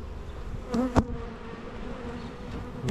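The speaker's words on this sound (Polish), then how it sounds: "Atakują kamerę, bo jest czarna. A pszczoły do czarnego to tak idą średnio." Agitated honeybees buzz around an opened hive in spring, a dense continuous drone close by, with a few individual bees whizzing past the microphone in louder swoops.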